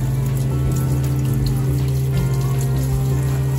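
Water runs steadily from a water tank into the sink of a shuttle bus kitchenette, a constant close splashing flow with a low pump-like hum underneath.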